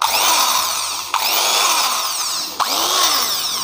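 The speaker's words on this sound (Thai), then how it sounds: "กดใช้งานแล้วสว่านทำงานปกติเลยนะครับ" An electric drill with a freshly rewound motor coil, running with a 3-hun bit fitted: a loud, steady high motor whine held close, briefly dipping twice as the trigger is eased and squeezed again.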